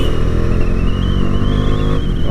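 A Bajaj Dominar 400 motorcycle engine running just after starting, a loud, close, throbbing rumble with a steady idle pulse and slight rises in pitch, with no talking over it.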